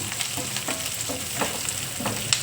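Onions fry in a pan for a simple breakfast of potato palya, with a steady close sizzle and faint stirring scrapes; nobody speaks.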